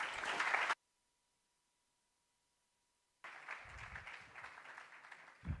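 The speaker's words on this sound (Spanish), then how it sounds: "Un fuerte aplauso para ellos, por favor." Audience applause for round table panelists at a physics graduate careers event, a burst of dense clapping that cuts to near silence for a couple of seconds, then resumes more softly with a few low thumps.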